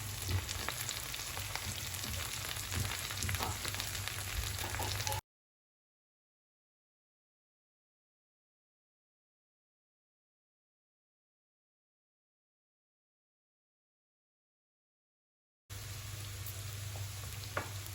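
Okra frying in a pan as masala spices go in makes a steady close sizzle. It cuts to silence for about ten seconds, then the sizzle returns.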